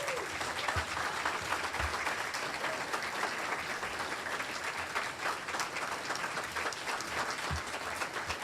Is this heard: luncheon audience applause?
yes